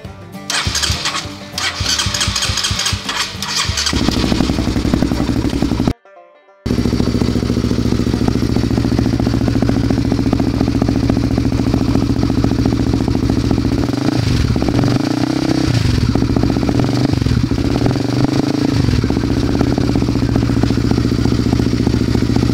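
A Honda CBR150 motorcycle fitted with a modified, wider exhaust pipe starts up after a brief cut, then settles into a loud, close, throaty idle with a steady rumble and a few small rev swells.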